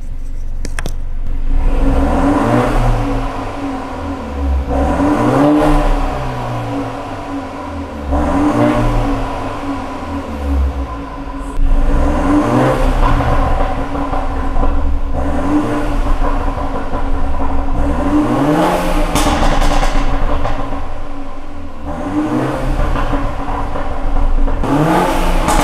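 A BMW 320i with a 2.0 engine and tuned software, in comfort mode, revved hard about seven times in a regular rhythm, each rise and fall loud and close.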